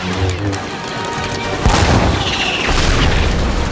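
Artillery fires in a video game battle: a single loud, heavy boom lands midway through a dense rumble of gunfire and explosions, close and overpowering.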